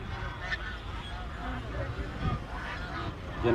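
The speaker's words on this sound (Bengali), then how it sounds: "দেখতে পাচ্ছেন এখানে রাজহাঁস বিক্রি হচ্ছে" Domestic geese honk and quack intermittently at a village market in Bangladesh, with nasal calls scattered through a busy crowd murmur and a louder honk near the end, while people talk nearby.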